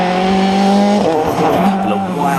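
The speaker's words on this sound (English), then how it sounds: "Wild slides through these gravel-covered corners, but Sébastien does make it through the firs" A rally car at the 2010 WRC Bulgaria event slides through gravel-covered corners, its engine roaring loud and steady with a sustained droning pitch under shifting tyre and gravel noise.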